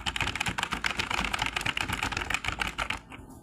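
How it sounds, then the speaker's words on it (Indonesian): Fast, uneven typing on a computer keyboard, close and dense clicks for about three seconds before stopping abruptly. "saya ketik ngasal aja"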